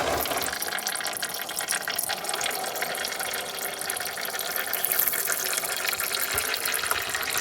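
Transmission fluid drains from a Honda CR-V 2.2 L diesel manual gearbox in a steady, continuous splashing trickle into a container. It stays close and even throughout, with no talking.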